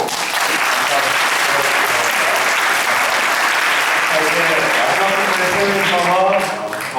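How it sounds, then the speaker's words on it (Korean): A crowd applauds loudly and continuously, dense clapping filling the room, with voices rising near the end as it fades. "다시 한번 여섯 분께 뜨거운 박수로"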